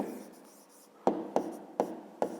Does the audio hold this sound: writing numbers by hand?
yes